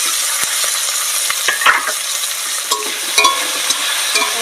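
Chopped onion and green chili frying in a pan for a village-style khichdi, a bright, close sizzle with a few clattering stirs of a spoon.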